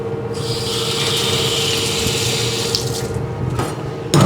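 Running tap water splashes steadily into a kitchen sink as a dish is rinsed out during a culinary skills test, a close, continuous gushing that swells briefly near the end.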